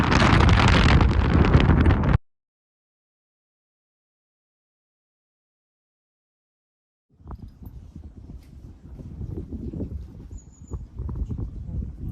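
Strong gusts buffet the microphone on the Lose Hill ridge near Mam Tor, a loud roaring rumble at first, then silence, then gusty wind rising again with faint rustling.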